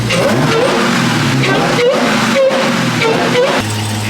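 A Dodge Hellcat engine revs loud and close in the rain as it winds up for a donut, a dense continuous roar with pitch rising and falling through several throttle blips and a brief dip near the end.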